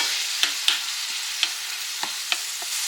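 A spoon stirs garlic powder and onion powder into a pot of vegetable soup, with a soft simmering hiss under a series of light scrapes and knocks against the pot at an irregular pace.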